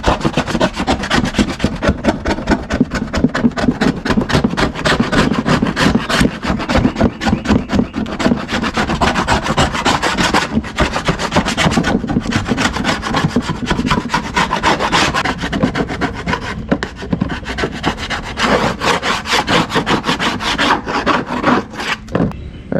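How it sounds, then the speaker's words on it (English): A hand paint scraper rasps steadily at old paint on a small Yamaha quad, with dense, continuous strokes close by and no talking throughout. "so I resorted to this paint scraper, and it's actually working out really well"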